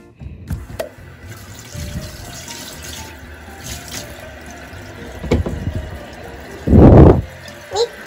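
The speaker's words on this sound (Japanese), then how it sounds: "一旦手洗います。" Running tap water splashes over hands at a sink, a steady flow with a loud close burst near the end and a short splash after, set in a kitchen-like room with faint background voices.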